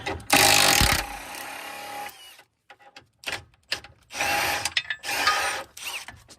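A stubby impact wrench tightens a bolt on a front control arm of a Kia Sedona, firing in a loud opening burst followed by several shorter rattling bursts with brief gaps between them.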